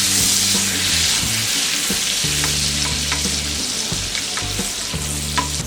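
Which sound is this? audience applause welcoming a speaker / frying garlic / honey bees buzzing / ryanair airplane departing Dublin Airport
frying garlic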